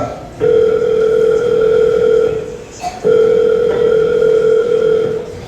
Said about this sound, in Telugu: దాన్ని ఇప్పుడే ఫోన్ చేస్తా.